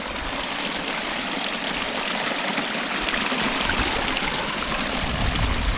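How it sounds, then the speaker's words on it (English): Spring water runs and gathers in a steady, close rushing flow beside a railway path on the North York Moors near Rosedale, a constant broadband gurgle that swells slightly louder toward the end, with no voices. "See how much water there is gathering up pretty quick."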